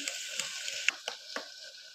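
Potato and carrot pieces stirred with vegetable masala and a little water in a pan, giving a soft, steady sizzle broken by a few light scraping taps of the spoon, fairly quiet and close.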